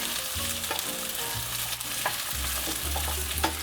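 Taro root (arbi) sautés in a pan with a loud, constant close sizzle, broken by scraping stirs and clicks of a utensil against the pan; no voices.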